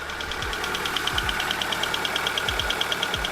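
A car engine runs steadily just after starting, close by, with a regular ticking, knocking rhythm over a low throbbing idle and no talking.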